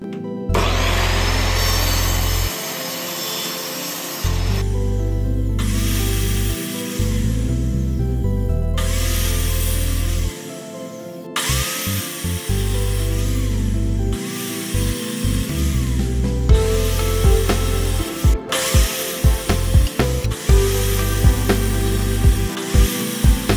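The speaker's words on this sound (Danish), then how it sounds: "For lige at få de her grater af, der sidder her på, som man får i fingrene, så bliver de alle sammen slebet her på ganske fint, ganske hurtigt." Small wooden parts for Christmas drum ornaments being sanded to remove burrs, a loud close power-sanding whine running in repeated bursts with brief pauses between pieces, no talking.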